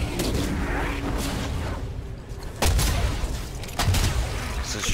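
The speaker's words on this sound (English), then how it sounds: "This is a shotgun." Shotgun blasts in Fortnite: Save the World, a few loud close shots at irregular intervals amid dense, noisy combat sounds with other weapon fire.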